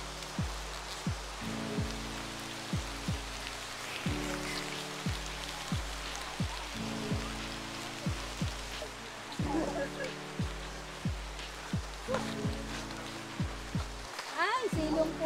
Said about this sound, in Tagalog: Abot na kami ng ulan.